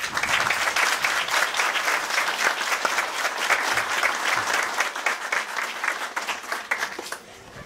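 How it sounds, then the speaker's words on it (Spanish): An audience at a ceremony at the Santa Rosa de Oreamuno health clinic in Cartago, Costa Rica, gives a doctor a loud, sustained round of applause, many hands clapping continuously for about seven seconds before it trails off. "solicito la presencia de la doctora Sonia Echaverri Molina, a quien recibimos con un fuerte aplauso"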